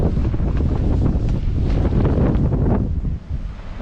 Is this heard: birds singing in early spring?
no